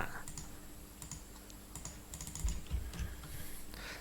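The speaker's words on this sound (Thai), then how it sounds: "ผมลองพิมพ์คำว่า สวัสดีครับ" Fast, light typing on a computer keyboard, a quiet, close run of irregular key clicks with a few heavier taps, no voices.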